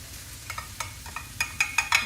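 Leftover chicken, rice, onions and peppers fry in a hot pan for Mexican fried rice, a steady soft sizzle broken by a run of sharp pops and crackles that grow louder and quicker toward the end.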